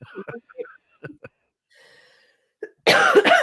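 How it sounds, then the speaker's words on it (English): A few soft vocal sounds and breaths, then a loud, harsh burst of coughing near the end, close and rasping. "Pardon my cough."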